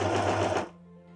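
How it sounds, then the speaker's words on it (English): A sewing machine runs fast and steadily while stitching tiny fabric straps meant as ties, its whir loud and close for about half a second before stopping abruptly, leaving a faint lingering hum. "So first I'm sewing these straps, then I'll attach those straps to the back pieces."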